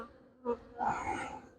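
Honey bees buzz around a hive in two short swells, the second longer and fuller, flying close by.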